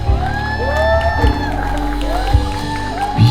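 Guests at an intimate wedding in Bali cheer and whoop loudly, excited shouts and crowd noise filling the room, with occasional claps and bursts of voices.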